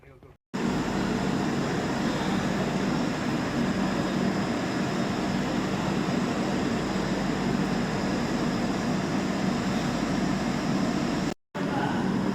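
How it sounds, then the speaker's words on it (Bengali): The Howrah New Delhi Rajdhani Express 12301 rolls into a station with a steady, loud, broadband rumble that holds for about eleven seconds before cutting out briefly near the end. "যেই গাড়িটা এখন ঢুকছে ওটা হচ্ছে হাওড়া নিউ দিল্লি রাজধানী 12301"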